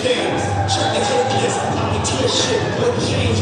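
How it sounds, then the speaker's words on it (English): Hometown crowd at a Caged Aggression MMA event cheering as a fighter makes his way to the cage, a steady, loud wash of arena noise with roaring voices throughout. "That hometown crowd giving all that support."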